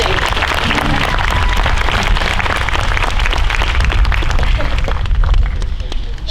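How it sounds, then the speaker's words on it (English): Loud, dense applause from a graduation ceremony audience fills the hall continuously as an honors graduate is announced, with crowd noise and scattered voices mixed in, tapering slightly at the end. "You can applaud."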